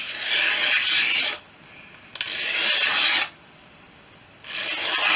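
A Stanley knife blade, held at an angle, is drawn across the edge of a windscreen frame on a Fisher Youngster, making three long, even rasping strokes with short pauses between them.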